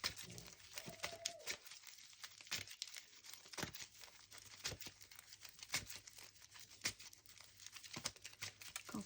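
Tarot cards shuffled and drawn for a monthly reading, giving soft papery crinkles, flicks and taps in an irregular rhythm, close and fairly quiet, with no talk over them.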